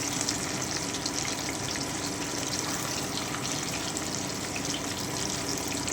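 Hilsa fish frying in a kadai of well-heated oil, a dense, continuous hiss and crackle with fine spattering, loud and close, steady throughout with no talking.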